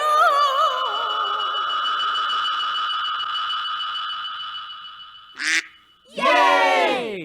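A long, tonal, wavering honk-like call holds for several seconds, then a brief burst and a final run of nasal, duck-like quacks, loud and close with no talk over them.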